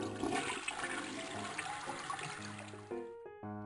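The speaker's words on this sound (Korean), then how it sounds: "싱크대, 샤워기, 세면대 등 물 나오는 곳을 동시에 틀어놓고 변기물을 내려보세요" A household toilet flushes close by with a rushing gush of water that fades into trickling and refilling, heard alone.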